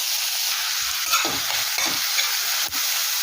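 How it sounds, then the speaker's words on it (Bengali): Two medium onions, finely chopped with a hand chopper, frying in hot oil over a low-to-medium gas flame for paneer tadka dal, giving a steady, loud close sizzle with a few soft stirring scrapes. "এখন দেবো 2টো মিডিয়াম সাইজের পেঁয়াজ, হ্যান্ড চপারে করে একদম মিহি করে চপ করে নিয়েছি।"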